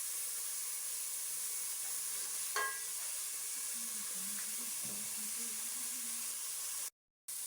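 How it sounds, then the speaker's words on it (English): Onions cooking gently in a pot with no oil, giving a steady, faint hiss with one light clink partway through and a brief dropout near the end. "So we're only going to let the onions cook just a little bit"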